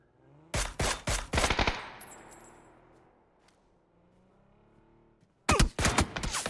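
Bursts of rapid automatic gunfire in a competitive battle royale video game match, two loud clusters of shots separated by a quieter stretch of fading echo and game ambience.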